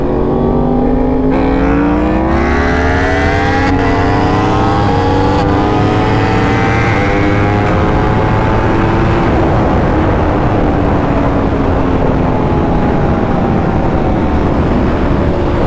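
A Yamaha R1 motorcycle with a flashed ECU accelerates hard along a street, its engine note loud and close, rising steadily in pitch through the gears as wind noise builds.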